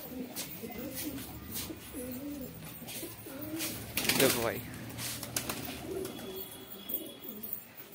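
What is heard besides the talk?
pigeons cooing after being let out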